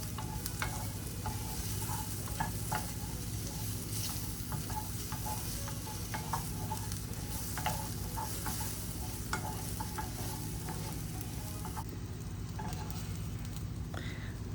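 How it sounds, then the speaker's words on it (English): Mushrooms and garlic sauté in a skillet with a steady, close sizzle, broken by frequent clicks and scrapes of stirring; no one speaks. "I am sauteing up my mushroom and a little bit of that garlic"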